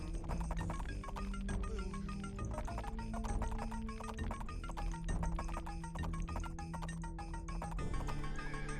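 Horse hooves clip-clop steadily in the Age of Empires strategy game, a light rhythmic patter running the whole time over constant game music and ambient battle sounds.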